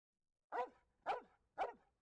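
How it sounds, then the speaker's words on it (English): A dog in an anime episode barks three times, evenly spaced about half a second apart, short sharp barks heard alone against silence. "Doggo."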